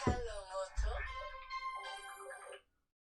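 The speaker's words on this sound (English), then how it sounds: "Oh, why am I getting a phone call?" A phone rings with an incoming call, a tonal electronic ringtone melody of a few repeated phrases, close and fairly loud, cutting off abruptly before a short silence.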